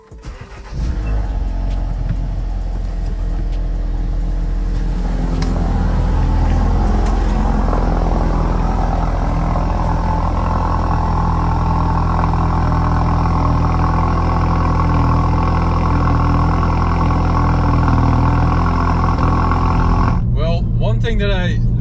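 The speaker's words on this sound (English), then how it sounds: "we're gonna take the Focus RS out for a spin." A Mk3 Ford Focus RS engine drones steadily while driving, the note swelling after a few seconds and holding loud and close for most of the run before it cuts off near the end.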